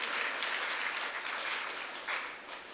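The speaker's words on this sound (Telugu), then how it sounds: "చప్పట్లతో దేవుని స్తుతిద్దాం." A church congregation claps together in praise of God, a dense and even wash of many hands clapping that holds at moderate loudness throughout, with no clear voices.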